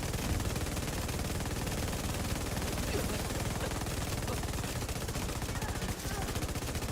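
Weapon fire in a video game runs without a break, a dense, steady stream of rapid shots at constant loudness from start to finish.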